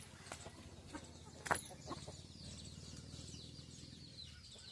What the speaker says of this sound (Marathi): हे आमच्या कोंबड्या आहेत